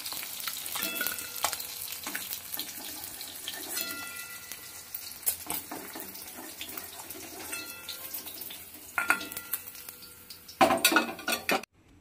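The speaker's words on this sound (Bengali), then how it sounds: "মাছটা লাল লাল করে ভাজা হয়ে গেছে" Rui fish pieces frying in hot oil in a pan, a steady crackling sizzle with occasional clinks of utensils and brief splashes of running water, close and moderately quiet, no voices.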